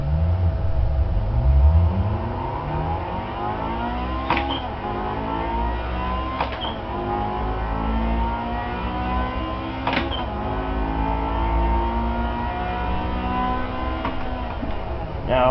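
Engine of a manual-transmission car driven hard around a track, revving up near the red line, shifting, and climbing again in repeated rising sweeps with sharp clicks between gears, all without any voice.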